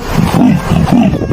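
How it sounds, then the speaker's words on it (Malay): A leopard gives a deep, rasping call of repeated grunting pulses in a steady sawing rhythm, loud and close with nothing else around it. "Harimau bintang atau leopard"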